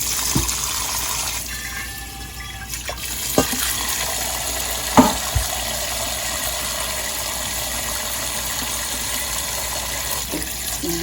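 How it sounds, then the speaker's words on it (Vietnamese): Cold tap water runs steadily over cooked rice vermicelli being rinsed, a continuous loud hiss broken by a few brief clunks and splashes. "bây giờ mình lấy ra mình xả nước lạnh."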